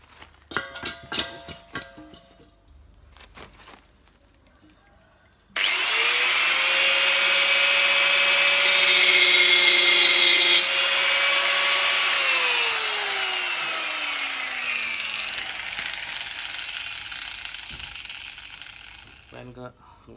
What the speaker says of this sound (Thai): ผมเริ่มเจาะจะเป็นช่องแล้ว แต่ดูมันจะวาดเสียว แต่ผม ตัดไปเรื่อยๆแล้วกัน